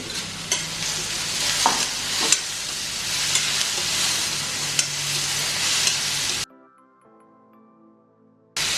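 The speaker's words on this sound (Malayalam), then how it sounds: "തക്കാളിയും കൂടെ അതിലിട്ട് കൊടുക്കാം. എന്നിട്ട് ഒരുമിച്ച് അങ്ങ് വഴറ്റാം." Onion and tomato sauté in a pan for an aloo gobi curry, with a loud continuous sizzle and rhythmic scraping stirs of a spatula. The sound drops out near the end and then briefly returns.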